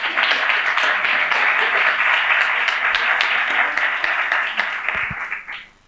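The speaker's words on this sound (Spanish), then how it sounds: "Ahora, un aplauso." An audience at a startup pitch event applauds the winners, a loud, dense burst of many hands clapping that holds steady for about five seconds before quickly fading out.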